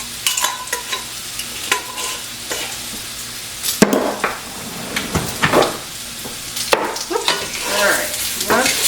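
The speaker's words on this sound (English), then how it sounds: "I can smell the steak starting to cook" Steak starting to cook in a pan at home, a steady close sizzle with stirring and clinks of utensils against the pan throughout.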